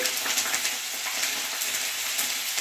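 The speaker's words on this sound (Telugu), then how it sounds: "స్టవ్ ఆఫ్ చేసిన తర్వాత ఈ మిర్చి ఉంటాయి కదా స్లిట్ చేసి పెట్టుకున్నాను, అవి ఇందులో వేస్తున్నాను" Slit green chillies hitting hot oil in a pan on a switched-off stove while making lemon pickle, a loud, steady, hissing sizzle that carries on throughout with no voices.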